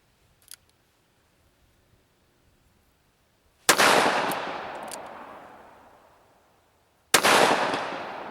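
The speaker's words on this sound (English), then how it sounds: "So let's take a few shots in single action." Pistol fired in single action: two sharp, loud gunshots a few seconds apart, each followed by a long decaying echo, with a faint click beforehand.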